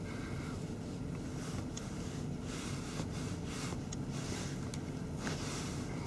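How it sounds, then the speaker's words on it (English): The electric engine cooling fan of a Volkswagen Golf V runs with a continuous loud whooshing roar, steady and close, with faint clicks and no talking over it. "Engine fan kicked on again."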